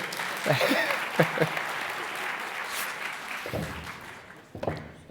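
Applause rises from the audience at an awards show as a presenter is invited on stage, steady clapping from a crowd with some distinct nearer claps and voices speaking over it.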